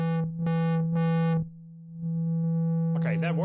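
Synthesizer square wave passed through a low-pass filter, sustained buzzy tones pulsing on and off, then a held note as the filter sweeps and the timbre wobbles and brightens near the end, no voices.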